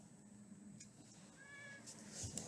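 A single faint, drawn-out meow from a cat that seems uneasy, rising briefly over a quiet room hum with a soft click near the end.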